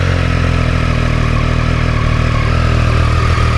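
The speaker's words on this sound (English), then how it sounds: "Stand back here where we can hear it good." A 2018 Triumph Street Triple R 765 motorcycle idles steadily nearby, its 765 engine giving a loud, even low rumble with a slight mechanical clatter and no talking over it.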